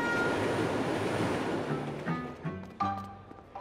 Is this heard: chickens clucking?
no